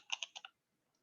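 A few quick keystrokes on a computer keyboard, four sharp clicks close together in about half a second, then silence.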